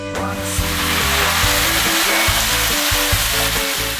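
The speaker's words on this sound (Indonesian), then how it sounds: "pas lelenya digoreng, minyaknya langsung luber, tumpah-tumpah" Jumbo catfish seasoned with yellow marinade crackles and sizzles loudly in a pan of hot, overflowing oil, a steady close frying hiss throughout.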